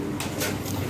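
Lahori pigeon cooing once, a short low throaty coo heard close against a busy background of birds and room noise.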